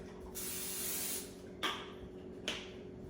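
Cooking spray bursts into an air fryer pan in a short hissing spray, followed by two quicker, sharper spritzes, close by and fairly quiet.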